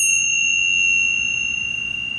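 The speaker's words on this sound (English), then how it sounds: "I'm going to ring the bell." A bell rung during a mantra session rings once and sustains a long, steady, clear tone that slowly fades, with a low hum underneath.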